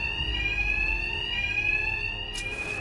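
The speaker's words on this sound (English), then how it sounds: "My attacks will be covered by the noise of the alarm." An alarm rings in the video game Batman Arkham Knight, a loud continuous electronic bell tone holding steady throughout, with a brief bright burst near the end and no speech.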